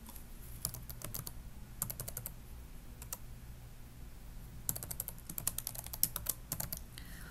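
Quick bursts of keystrokes on a computer keyboard as a username and password are entered, faint close clicking in several short clusters separated by quiet pauses.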